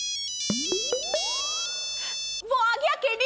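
A mobile phone ringtone plays a short run of bright electronic tones with a rising sweep, fairly quiet indoors, before a voice starts talking over it.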